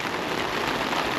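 Steady rain falls hard outdoors, a dense, even hiss of drops on surfaces with no pauses, close and moderately loud with no voices.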